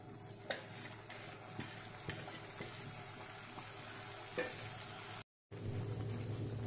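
Masala spices sizzle steadily in a pan as part of spiced potato-cauliflower curry, a continuous low frying hiss with occasional soft pops and stirring clinks, briefly cut to silence near the end.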